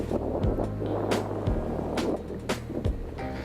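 Wind blows over a lake in Punggol Park, a steady broadband rush gusting against the microphone for the whole stretch, with a few brief knocks or thumps and a low hum underneath.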